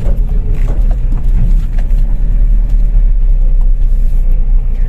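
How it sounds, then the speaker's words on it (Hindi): A Mahindra Bolero pickup crawling in first gear over a rough, bumpy road, its engine a loud, steady low rumble with knocks and rattles from the uneven surface. "तो गाड़ी को धीरे धीरे हम एक गियर पे चला रहे हैं"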